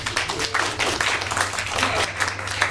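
A small group claps at a tech education workshop session, a moderate, uneven round of applause over a steady low hum in the room.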